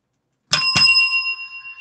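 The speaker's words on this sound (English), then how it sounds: "That sounds like a double bell to me." A bell is struck twice in quick succession, and both bright strikes blend into one clear ringing tone that slowly decays, loud and close with no voices.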